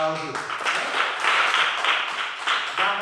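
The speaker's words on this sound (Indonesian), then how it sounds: "tepuk tangan untuk Ogi." Students clapping together in a classroom, a short burst of group applause with some rhythmic unison claps, fairly close, and voices briefly audible at the start and end.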